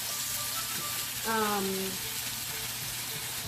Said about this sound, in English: I've added my beef here to my frying pan, and I'm going to just keep sauteing it